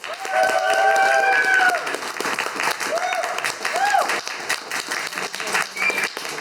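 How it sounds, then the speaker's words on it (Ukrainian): Audience at a roast battle comedy show breaks into loud, sustained applause lasting several seconds, with cheering voices and whoops mixed into the clapping. "Ваші оплески."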